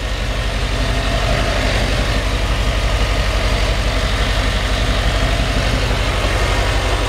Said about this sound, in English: Nice smooth running 350 V8. With fuel injection.